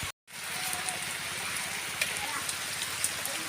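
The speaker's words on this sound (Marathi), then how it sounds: "हे पहा, पाऊस लागतोय." Monsoon rain in rural Konkan farmland, a dense steady hiss of falling rain with scattered drop impacts, close and continuous after a brief silent gap at the start.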